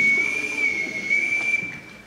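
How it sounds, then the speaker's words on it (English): A single long, steady whistle blast in a high school stage production of The Sound of Music, shrill and sustained for nearly two seconds over faint hall ambience. "I can't bear being whistled for."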